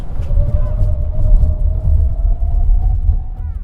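A BMW i5 M60 xDrive electric sedan braking hard on a race track from about 100 km/h, heard from inside the cabin as loud rolling road rumble with a steady electric whine that fades near the end.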